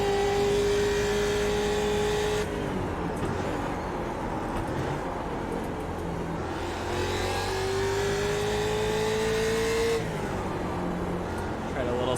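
A sim race car in iRacing, a Mustang or F4, drones at high revs, its engine pitch climbing and holding near the limiter in long steady stretches, loud and continuous beneath a driver talking.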